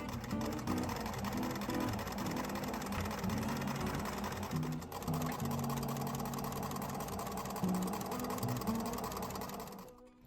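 A sewing machine stitches continuously close up, basting a kimono-fabric pocket to the front pants panel, its rapid mechanical hum and needle clatter running steadily with a brief dip midway.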